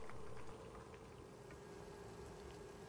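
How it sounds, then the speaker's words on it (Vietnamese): Small potato pieces deep fry in a pan of hot oil, giving a steady, dense bubbling sizzle that holds at an even level throughout with no talking. "Mình chiên khoảng 7 phút á,"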